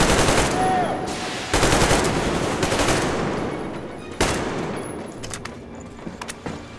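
Dense, loud automatic gunfire in the Metro Exodus video game, sustained bursts with a few heavier blasts, rolling straight through with scattered shots trailing off at the end.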